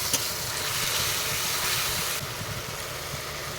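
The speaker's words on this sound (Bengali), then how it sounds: "মশলাটা কিছুক্ষণ ভালো করে আগে নাড়াচাড়া করে ভেজে নেব" Ginger-garlic paste and spices frying in a pan for a Bengali jackfruit and prawn curry, a steady broadband sizzle holding at an even level throughout with no talk.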